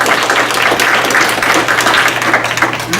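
Audience applause at a school board meeting, a steady dense wash of many hands clapping at fairly loud level throughout, with a low electrical hum underneath and no speech.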